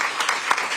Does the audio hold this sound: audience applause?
yes